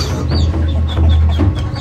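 Chickens cluck beneath a floating village house in the Amazon, a series of short, close clucks over a steady low hum of background noise.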